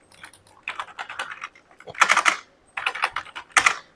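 Quick bursts of typing on a computer keyboard while entering AutoCAD commands, the clustered clacks coming in short groups separated by brief pauses, with harder keystrokes like Enter presses standing out, close and clear.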